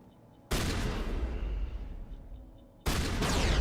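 Grenade blasts and gunfire in the Mass Effect video game, two sudden loud broadband explosions about two seconds apart, the first trailing into rumbling decay before the second hits.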